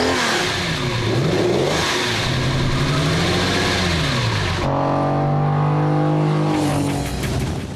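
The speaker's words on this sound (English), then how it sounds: "The V12 4-liter engine steals the show." A Lamborghini Countach with a 4-liter V12 revs hard and close, its pitch sweeping up and down through several throttle blips before settling into a sustained high howl.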